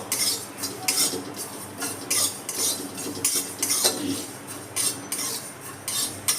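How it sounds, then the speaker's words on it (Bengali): A utensil scrapes and stirs fennel seeds rhythmically in a dry metal wok, steady repeated strokes close up with light clinks. "মৌরিটা দিয়ে ভালো করে নেড়ে নেবো।"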